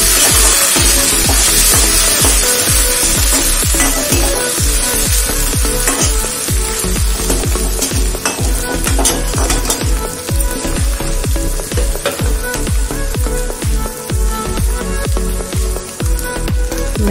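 Tomatoes tipped into a pan of frying onions with cloves and cardamom, for an aloo palak curry, sizzle loudly and steadily, with a dense crackling hiss and frequent sharp spits and pops throughout, with no talking.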